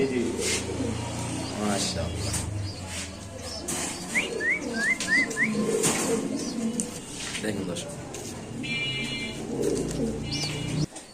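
Damascene pigeons feed their chicks at a pigeon sale: a quick run of thin, high chirps and soft coos sits under steady nearby talk.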